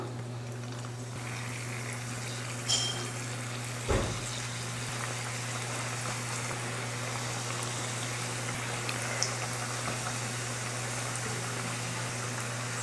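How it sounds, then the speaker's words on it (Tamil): Egg samosas frying in hot oil, a steady soft sizzle and bubbling that runs throughout over a low hum, with a couple of brief clicks or taps, no talk. "இப்போ எண்ணெய் காஞ்சிருச்சு, அதில் சமோசா போட்டுக்கலாம்."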